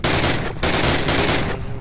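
Machine gun fire in the video game Call of Duty 1, loud close bursts of rapid shots in three quick volleys with brief gaps, no talking.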